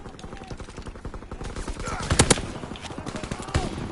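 Rapid automatic gunfire crackles steadily in a Call of Duty WWII multiplayer match, with dense bursts and a few heavier blasts, and battle noise fills the background throughout.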